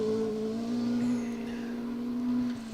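A Ford Mark II rally car on a 4WD forest rally stage holds a steady, droning engine note with a slight rise and fall of revs. The sound is moderately close, continuous, and no one speaks.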